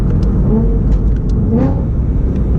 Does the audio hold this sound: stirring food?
no